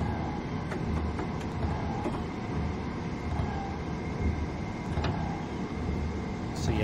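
Eight-car train running in Train Sim World 2020 in a blizzard, with a steady rolling rumble and periodic rail clicks, someone talking over it.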